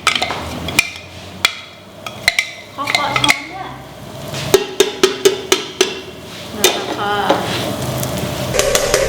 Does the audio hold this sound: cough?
no